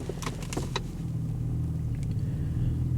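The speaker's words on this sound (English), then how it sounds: "She's misfiring a little" Engine of a 2017 Chevrolet Malibu at about 50K miles with a charging fault, idling with a steady low rumble and a few uneven knocks early on, close and alone.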